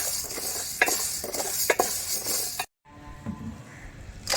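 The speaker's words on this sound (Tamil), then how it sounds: "இப்போ உளுந்து எடுத்துக்கலாம் உளுந்து கொஞ்சம் நல்ல வாசனை வர வரைக்கும் வறுக்க வறுக்கணும்" Urad dal dry-roasting in a pan, stirred with a spatula in a run of scraping, rattling strokes, then a brief gap and quieter stirring.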